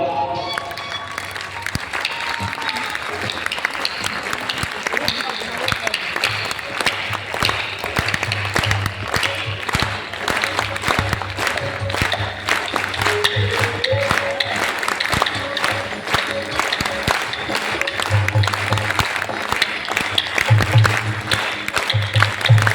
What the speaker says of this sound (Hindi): ये हमारे वृंदावन की आनंदम ताली है, सबसे निराली।